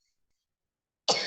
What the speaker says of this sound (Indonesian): maaf ini batuk-batuk.